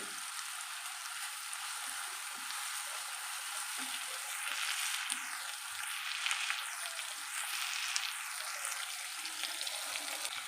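Small onion pieces with ginger garlic paste frying in a pan for a mango fish curry, a steady soft sizzle and crackle with occasional stirring scrapes, no talking.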